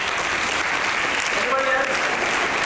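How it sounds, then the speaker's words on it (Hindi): Audience applause at a talk session, steady dense clapping from a crowd filling the whole moment, with a voice briefly audible underneath. "Good, ताली बजाओ।"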